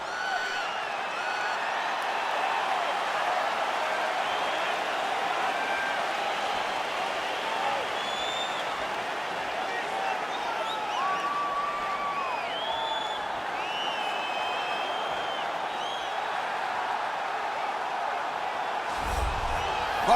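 A steady roar of a sold-out arena crowd fills a UFC flyweight championship bout in EA Sports UFC 4, with whoops and cheers rising over a constant dense murmur throughout.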